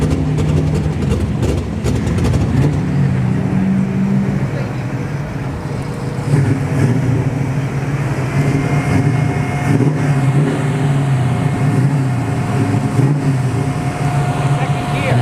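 A supercharged drag racing car at a dragstrip test-and-tune session gives a loud, rough, rumbling engine note with a whining overtone, idling and revving continuously, with people talking over it.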